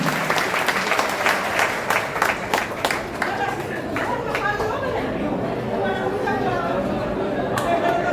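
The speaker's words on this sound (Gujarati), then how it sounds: "આપણે તાળીઓથી વધાવશું સર્વ દીકરીઓને." A crowd applauds the girls at a kalash puja ceremony, with steady clapping under lively chatter and voices.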